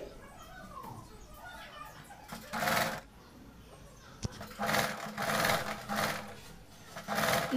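A sewing machine stitches a baby frock in short whirring bursts separated by quieter pauses, with a soft background murmur.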